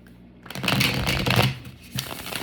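Tarot cards are shuffled up close in a brisk, continuous riffling flutter that lasts about two seconds, clear and alone with no talking.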